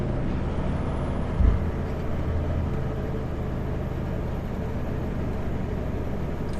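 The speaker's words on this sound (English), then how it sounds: "there's a sweeper going down there" A road sweeper truck passes on the road, a heavy low rumble of engine and brushes holding steady throughout, with one brief louder thump partway through.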